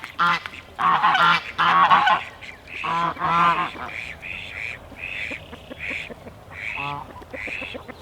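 A couple of ducks on a homestead beside a small creek give loud, close, raspy quacks and honks in repeated bursts, some clustered rapidly and others spaced apart.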